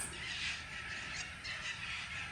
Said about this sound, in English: That's the parrots going across.